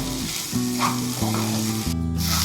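Soya bhurji sizzles steadily in a hot pan as it is mixed with spices, a loud, close, continuous frying hiss with a low hum underneath and no voices.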